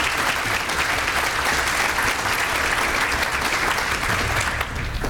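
Dense, steady applause from a conference audience filling the room for the entire stretch with no talking over it.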